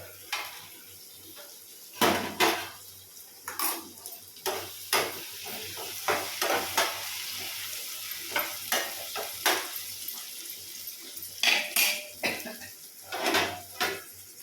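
Curry being stirred in a cooking pot: a steady low sizzle runs underneath as a utensil repeatedly scrapes and knocks against the pot in irregular clattering strokes, close and fairly loud, with no talking.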